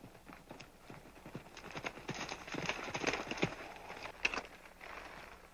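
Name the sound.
horse hooves clip-clopping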